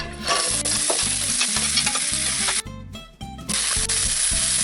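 Onion, pepper and celery sizzle in warm oil in a pan, with loud steady frying crackle and repeated scraping stirs in a regular rhythm, briefly dipping midway before resuming.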